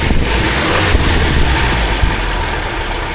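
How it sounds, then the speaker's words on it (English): A Triumph Herald Estate's small engine turns over and catches after a carburettor swap, then runs loud and close with a rough, buzzy idle and a few revs. "For a farty little car, it does start alright, you know."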